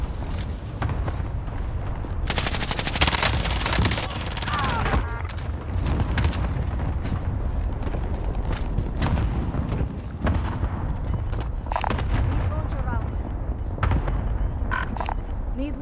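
Video game combat with a rapid fusillade of gunfire and heavy booming rocket-launch blasts, dense and continuous throughout, with brief game voice callouts mixed in.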